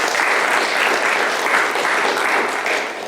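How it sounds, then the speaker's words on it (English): Sustained audience applause for Hardeep and his wife at a lecture on Indian cultural history, a dense, steady wash of clapping heard alone and easing slightly at the end. "Would you applaud Hardeep and his wife?"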